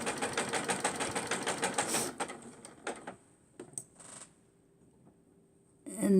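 A sewing machine runs steadily across a guest towel trim, its rapid needle clatter pulsing in a quick even rhythm for about two seconds before stopping; a few clicks and small handling knocks follow, then a brief mechanical whir at the end.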